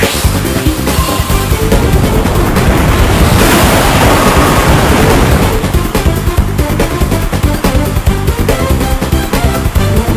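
Rushing, roaring wave of water from the Surf attack in the Pokémon Battle Revolution battle game, a loud, continuous wash that swells toward the middle of the clip and then tapers off, with no voices.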